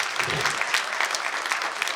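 Audience applause at a Kanuda Group stage event, Jeerawala 2025, rendered as steady, dense clapping from a large crowd for about two seconds, close and fairly loud with no talk over it.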